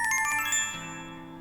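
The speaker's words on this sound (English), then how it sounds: "my phone cries out for attention" A mobile phone ringtone plays a bright, melodic sequence of electronic tones, close and clear, with no voices.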